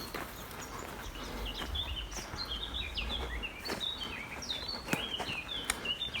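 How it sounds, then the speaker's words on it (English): Birds chirp and sing in a garden during a springtime lockdown walk, with short bright calls scattered throughout over a soft outdoor background and low rumble, moderately distant and fairly faint. "Hear the bird song, I hope you can hear that."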